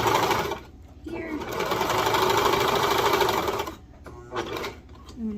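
A home sewing machine stitches baby bodysuit fabric in a loud, steady whirring run that stops, followed by a few shorter clattering bursts.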